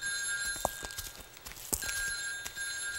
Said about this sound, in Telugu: ఫోన్ తీసి మాట్లాడు